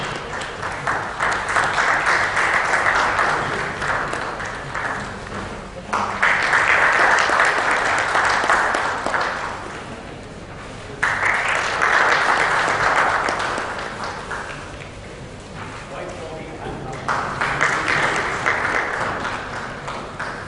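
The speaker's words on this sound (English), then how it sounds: "A big round of applause for our guests for the inaugural session." Audience applause for guests at the inaugural session of the Smart City 2014 conference, sustained clapping filling the hall in several swelling waves with brief dips between them, loud and close.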